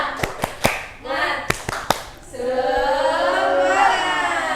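A class of children claps the rhythmic 'tepuk semangat' chant, with a few sharp, separate claps at first and then a burst of group chanting and voices carrying on over the claps.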